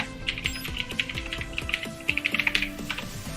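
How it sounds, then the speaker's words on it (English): A noisy, loud computer keyboard typed on up close, with quick irregular clacks in short bursts and a quicker flurry near the end, alone with no talking. "I hope my noisy keyboard is not a problem."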